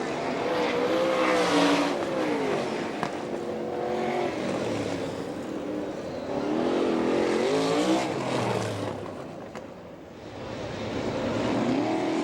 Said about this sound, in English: Kemenau gets on the gas out of turn 4